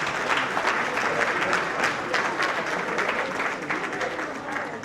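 Audience applause following a presentation at a gathering with goodwill messages, a dense, steady clapping that holds at an even level throughout the five seconds and fades slightly at the end.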